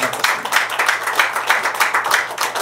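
Audience at a Los Angeles Syngman Rhee forum claps to welcome an introduced guest, loud, close and continuous hand clapping with a quick, even rhythm.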